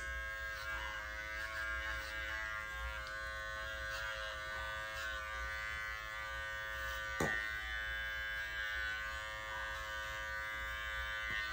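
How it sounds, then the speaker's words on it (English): Electric dog clippers fitted with a 10 blade hum steadily while trimming a Yorkshire Terrier's fur near the eyes, a close, constant buzzing drone with one brief click partway through and no talking. "put my clipper on a 10 blade, and come in and trim the corners of the eyes"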